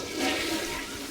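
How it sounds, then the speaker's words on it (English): A toilet flushes with a rushing, gurgling swirl of water that swells quickly and then stays steady, heard close and alone. "There's a toilet flush."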